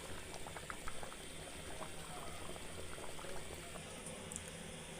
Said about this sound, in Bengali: পানি দিয়ে দিব মুরগিটা সিদ্ধ হওয়ার জন্য